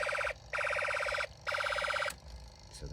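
Snap Circuits burglar alarm circuit sounding, a loud warbling electronic tone in three even bursts with short gaps, then cutting off to faint handling noise.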